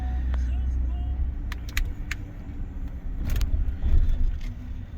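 A 2022 Ford F-150 pickup rolls slowly through a repair shop, its low engine rumble swelling and easing, with a few sharp metallic clicks and clanks overhead.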